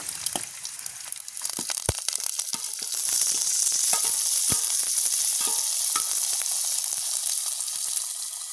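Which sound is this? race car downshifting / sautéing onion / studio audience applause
sautéing onion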